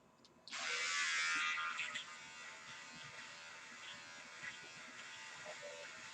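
Electric hair clippers shaving hair, a loud close buzz starting abruptly then settling into a steadier, quieter hum as the blades run through hair.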